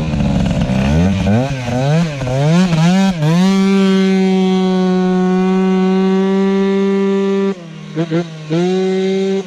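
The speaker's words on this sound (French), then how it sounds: "On va faire chauffer les pneus comme dans les rails." A Peugeot 103 moped fitted with a 70cc Malossi MHR engine revs hard and close up, with quick rising and falling throttle blips that settle into a sustained high-pitched scream, broken by a few short dips near the end.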